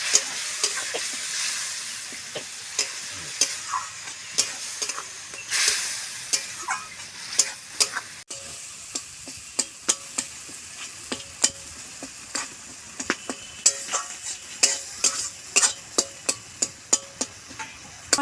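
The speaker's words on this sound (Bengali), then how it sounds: "অল্প জল, মশলাটা ভালো করে কষে নেব।" Spice masala being stirred and fried in a pan with a little water, a steady sizzle under frequent sharp scrapes and clinks of the spoon against the pan, close and fairly loud, no voices.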